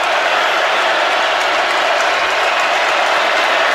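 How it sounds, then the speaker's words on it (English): A Georgia football stadium crowd roars for the home defense, a dense, loud, sustained wall of cheering with no break. "Georgia crowd coming to life for their defense."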